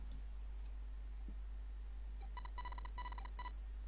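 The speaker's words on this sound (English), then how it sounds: "Like some sort of beeping." A series of short electronic beeps in quick bursts from the video game 9 Hours, 9 Persons, 9 Doors, fairly clear over a low steady hum, following a quiet stretch with faint ticks.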